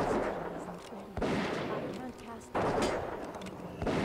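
Shots fire at a fair shooting gallery in World of Warcraft, three loud cracks spaced about a second apart, each trailing into a noisy decay.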